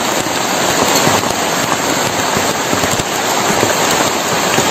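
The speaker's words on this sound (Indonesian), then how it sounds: "Hujannya jelas tuh, itu ya." Heavy rain falls in a dense, constant hiss, loud and close, without pauses or voices.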